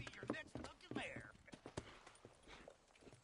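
Horse hooves clip-clopping in Red Dead Redemption, a rapid uneven run of close hoof knocks mixed with game dialogue voices.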